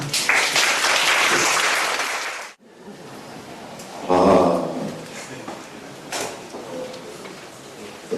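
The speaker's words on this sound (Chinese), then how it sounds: "那我们就先掌声欢迎2位艺术家。" An audience claps loudly for about two and a half seconds to welcome two artists at a talk, then the applause stops abruptly, leaving quieter room sounds and thumps.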